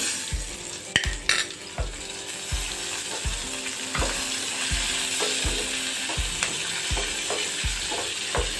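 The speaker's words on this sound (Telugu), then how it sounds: "ఉల్లిపాయ ముక్కలు వేస్తున్నాను అలాగే పచ్చిమిర్చి కరివేపాకు" Sliced onions, green chilies and curry leaves sizzle in hot oil for upma, with a steady frying hiss and repeated scraping clicks of a spoon stirring the pan, close and alone.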